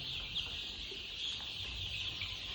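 Faint, soft clucking of chickens loose in a poultry farm shed, with scattered low calls over a quiet, steady background hiss.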